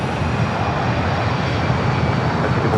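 An airliner's engines roar at Los Angeles LAX airport, a loud, steady, close broadband rush that holds without break for a few seconds, no voices.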